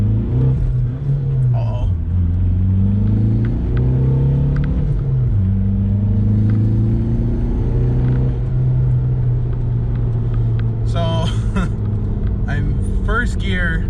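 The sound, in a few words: VW Jetta TDI car accelerating in first gear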